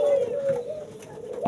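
A captive puter dove gives a brief soft coo, a low rounded call that rises and falls, heard close but faint in a quiet setting.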